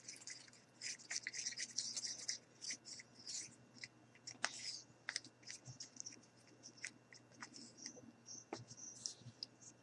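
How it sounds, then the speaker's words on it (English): Popsicle stick stirring paint in a small container while decorating a cookie, a steady run of quiet close-up scraping and tapping clicks with no talking. "I'm going to go ahead and take my popsicle stick and we're just going to give this a stir."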